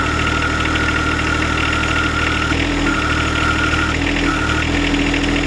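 Close and loud, a John Deere 1025R tractor engine idles with a steady mechanical drone and a faint whine that cuts in and out.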